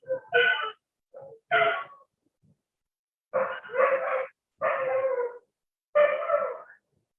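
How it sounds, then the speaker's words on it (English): Several dogs bark in a few loud, close bursts separated by brief pauses, with no one talking. "Lots of dogs barking"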